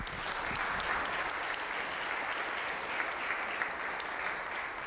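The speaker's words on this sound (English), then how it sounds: "if we could have a round of applause for her, that would be great" Sustained applause from an audience, steady clapping throughout with no voices rising above it.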